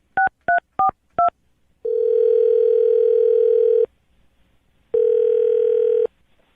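Four quick touch-tone dialing beeps on a telephone call, followed by two long, steady ringing tones with a short gap between them. The tones are clear and close, with no voices.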